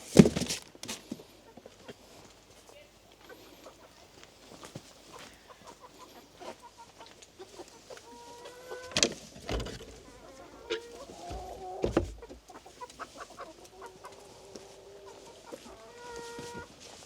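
Chickens cluck and squawk beside a mobile chicken coop on an Alpine pasture in Bavaria, a string of close, irregular calls with a few louder squawks, some sharp knocks and rustling between them.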